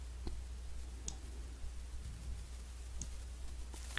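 Faint mouse clicks while cropping an image in PowerPoint, a few sparse, sharp ticks spaced about a second apart over a low steady hum.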